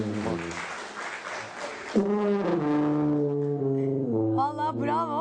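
A tuba played to mimic snoring on a Turkish TV health show, with low sustained brassy tones in long swelling phrases, loud and close, followed by wavering higher notes near the end.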